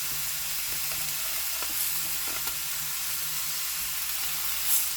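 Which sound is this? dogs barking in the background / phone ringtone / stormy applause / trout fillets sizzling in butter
trout fillets sizzling in butter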